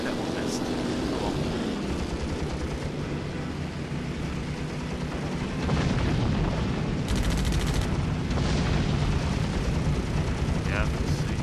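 Naval combat in Damage Inc: heavy explosions pound a destroyer amid a dense, roaring wash of blasts, engine drone and gunfire that swells louder partway through, with brief radio voices heard.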